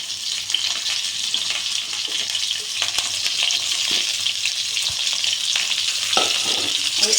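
Pieces of pointed gourd fry in mustard oil for a vegetarian potoler dalna, giving a steady, dense, close sizzle that crackles unbroken throughout, with faint stirring scrapes and no voices.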